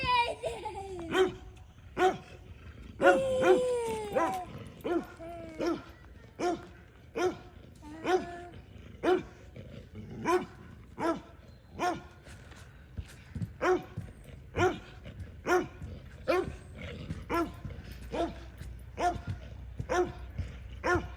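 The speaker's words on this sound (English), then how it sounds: "And Ralph runs for his life, barking, sometimes whimpering" A dog runs off barking and whimpering near pigs at a farm, giving a long steady series of sharp barks at roughly one-second intervals, with some higher yelps and whines mixed in early on.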